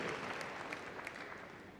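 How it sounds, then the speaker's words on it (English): Audience applause at the Crufts 2013 dog show during a Good Citizen Dog Scheme display, a short, fairly faint burst of crowd clapping that fades slightly toward the end. "Big round of applause."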